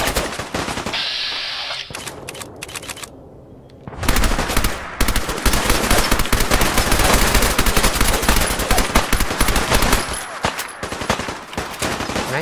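Sustained automatic gunfire in the Fallout 4 VR shooter game, dense rapid bursts that pause briefly then resume loud and continuous, with layered shots and impacts.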